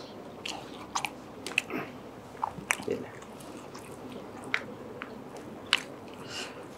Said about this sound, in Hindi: अच्छा ये आ गया है लोडेड फ्राइज गरम होकर, अब इसको ट्राई करते हैं।